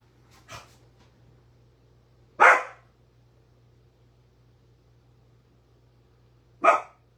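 A dog barks three times, short and sharp, close by, with long quiet gaps between each bark in an otherwise still room.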